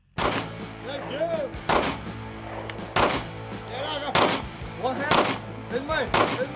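Gunshots at a Las Vegas shooting range: a series of sharp, loud cracks spaced about a second apart with echoing tails, under steady background noise and chatter between the shots.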